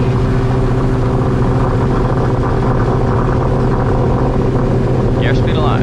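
A loud, steady engine drone with a constant low hum fills the whole stretch as a Cessna 172 single-engine propeller plane powers up for takeoff, with a brief faint voice near the end.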